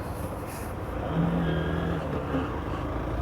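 Hero Hunk 150 xTEC motorcycle ridden on the road, a steady engine drone with rising and falling low hum and broad wind rush throughout, fairly close and continuous.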